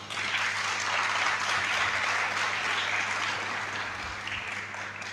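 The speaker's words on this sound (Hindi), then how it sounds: "हमारे मेहमान आए हैं उनके लिए तालियां बजाएं।" A church congregation applauds its visiting guests with a steady, even round of clapping, moderately loud, over a faint low hum.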